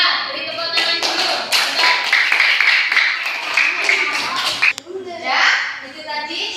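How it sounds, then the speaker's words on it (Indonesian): Children in a classroom clap for a group in a brief burst of applause, loud and close, mixed with kids' voices, then an adult speaks as the clapping stops. "Beri tepuk tangan dulu"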